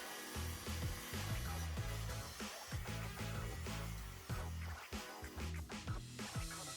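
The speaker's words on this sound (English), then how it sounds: "I used my saw to make the cuts." A saw cuts through a plywood sheet guided by a straight-line jig, a continuous gritty rasp with rhythmic strokes and shifting pitch, close and steady throughout without speech.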